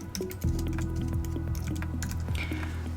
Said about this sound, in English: So you can start typing.